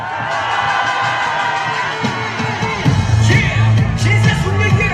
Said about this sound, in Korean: 시민 여러분, 큰 함성으로 함께 해주십시오